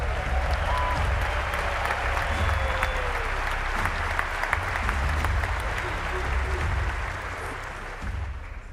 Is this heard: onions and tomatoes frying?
no